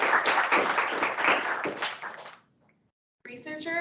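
A conference audience applauds award-winning presenters at a celebration of excellence. The dense clapping fades out over about two seconds, a short silence follows, and then a voice begins speaking.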